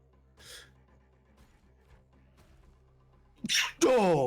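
A person sneezes during a tabletop role-playing game session, one short burst early and a louder, sharper sneeze near the end followed by a voiced exhale, with quiet room tone in between.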